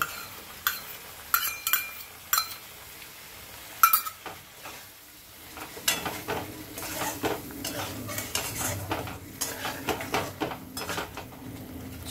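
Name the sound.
adding cashew paste to egg korma in a pan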